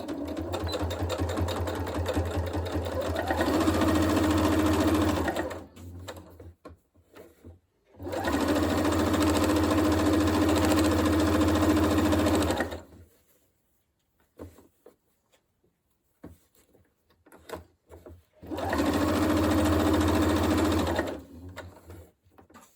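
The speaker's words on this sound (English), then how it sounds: "I'm just going to sew along that inside folded edge to make the casing." A sewing machine stitches a folded fabric casing for a dust bag, running in three loud, steady bursts of rapid mechanical whirring close by, separated by quiet pauses with small handling clicks.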